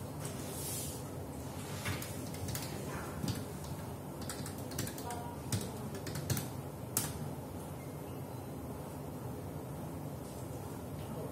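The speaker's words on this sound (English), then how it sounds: "after that you type your email id" Quiet tapping on a computer keyboard while entering an email address to set up Google Sites, with scattered keystrokes in irregular bursts over a low background hum.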